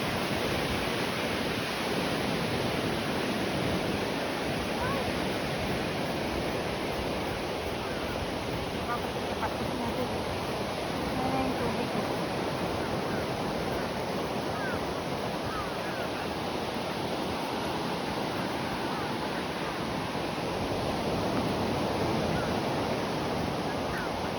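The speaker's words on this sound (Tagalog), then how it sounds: "Malaki na yata yung alon." Sea waves break on a shore in Japan, a steady, loud wash of surf that rolls on without pause, with wind buffeting the microphone.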